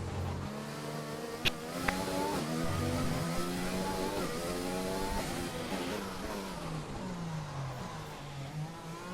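A race car engine in a racing video game, driven on a rain-soaked Singapore circuit, revs and shifts, its whining tone rising and falling through gear changes, with a couple of sharp clicks early on.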